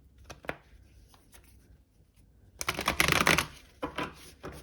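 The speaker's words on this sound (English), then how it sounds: "we'll do one last shuffle" A deck of tarot cards is shuffled close to the mic: a few soft taps, then a quick burst of riffling card flutter followed by shorter riffles.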